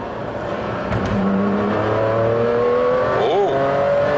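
A supercar engine revs in race mode, heard from inside the cabin as a loud, steady mechanical drone. Near the end the pitch swoops up briefly, and no one speaks.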